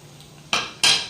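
Metal lid set back down on a cooking pot while Kerala-style fish head curry cooks, two bright clanks about a third of a second apart, close and clear, each ringing briefly.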